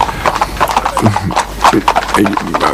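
Horse hooves clip-clop in a quick, uneven rhythm close by, with several hoof strikes coming through under someone talking over them.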